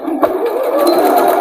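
An electric sewing machine runs a straight stitch through pant fabric, a steady close whirring buzz that holds continuously without pause.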